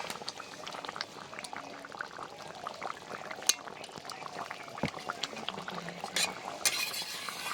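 Chicken curry gravy with softened potatoes bubbling and reducing in a pot, a steady close simmer of popping bubbles with occasional utensil clinks and stirring.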